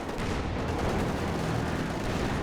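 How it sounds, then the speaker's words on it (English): Heavy mortar fire and explosions in Company of Heroes 2 as a bunker is shelled, a dense, continuous rumbling barrage of booms with no clear gaps. "this bunker's about to go down to the heavy mortar finally"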